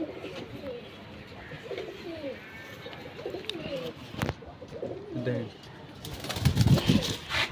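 Flying pigeons in a loft coo in low, repeated murmurs, and a louder burst near the end suggests fluttering wings. Voices talk faintly in the background.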